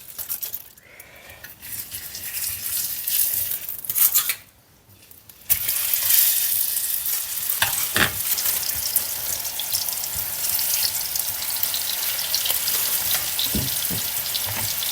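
Thin homemade burger patties sizzle in a little oil in a pan, a loud, steady crackling hiss. Brief quieter dips and a few sharp clinks come through, with no voices.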